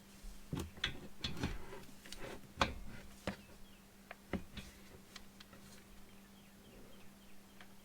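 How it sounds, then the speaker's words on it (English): A 14mm socket clicks onto a ratchet adapter while front brake pads are changed on a 2016 Nissan Altima. A series of faint, sharp metallic ticks and clicks come at irregular intervals in a quiet garage. "clicks in here like that, and this is a 14mm socket"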